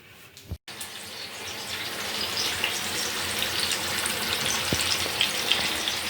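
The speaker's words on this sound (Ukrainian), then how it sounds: "вже промаринувалася курочка. Піду її смажити" Steady sizzling of marinated chicken frying in hot oil, a dense crackling hiss that builds after a brief clatter at the start.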